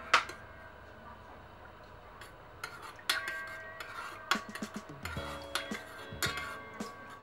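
A spoon clinks and scrapes against a pot while milk with a spoonful of white vinegar is stirred, irregular metallic taps and scrapes building after a quieter start, close and fairly clear.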